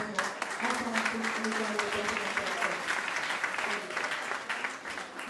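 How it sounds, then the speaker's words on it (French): Audience applause following a university lecture, sustained clapping at moderate distance with a voice speaking over it. "Des applaudissements encore et encore."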